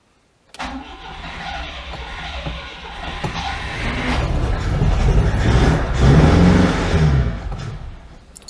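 An old Oltcit car engine cranks and catches unevenly on bad fuel, sputtering and rising into rough revving that swells and fades near the end, close and loud.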